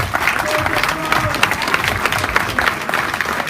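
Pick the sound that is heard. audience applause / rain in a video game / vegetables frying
audience applause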